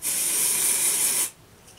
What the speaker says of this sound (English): You're going to spray some of your dry shampoo on your roots